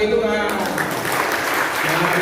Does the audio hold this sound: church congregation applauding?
yes